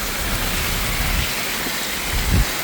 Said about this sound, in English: You know those rain droplets are coming from a long ways up